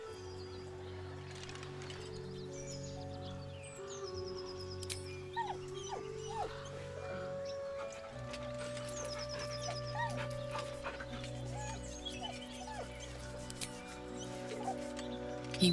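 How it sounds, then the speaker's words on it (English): A dog whimpers and whines in Baldur's Gate 3, soft repeated whines under a steady game backdrop of sustained low music tones and ambience. "With a deep, heartbroken whine, the dog bows his head."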